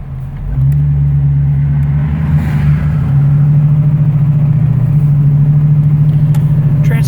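A 1934 Chevrolet all-steel touring car idles at about 600 rpm, its engine giving a loud, steady, low rumbling throb with a faint rhythmic pulse throughout and no talking.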